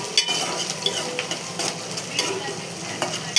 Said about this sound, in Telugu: కొంచెం గోల్డ్ కలర్ వచ్చేదాకా వేయించుకోవాలి.